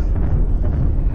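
LRM missiles launch in a MechWarrior game as a loud, dense rumbling roar that fills the whole moment, with no talk over it.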